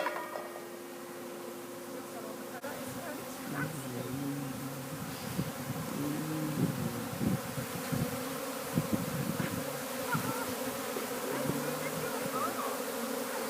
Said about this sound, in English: I think it's safe to say that the swarm know where their home is now.